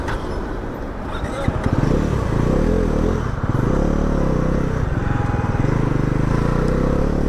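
A Bajaj Pulsar NS400Z motorcycle engine in sport mode starts and settles into a steady, loud, close running note with a throaty low rumble and a few rev swells. A voice speaks over it briefly.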